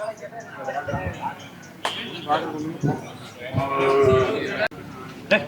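Kangeyam native cattle low and moo at a busy cattle market in Tamil Nadu, with people talking loudly over the animals and the general crowd noise.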